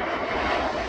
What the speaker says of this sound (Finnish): Lentokone.